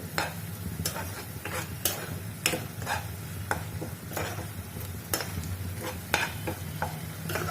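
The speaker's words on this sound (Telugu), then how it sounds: "చక్కగా ఇదంతా వేగనిద్దాం" Masala for a raw mango prawn curry fries in oil in a pan, a constant sizzle broken by regular sharp scrapes and taps of a spatula stirring close by.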